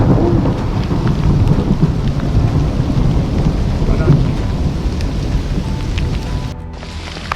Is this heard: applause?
no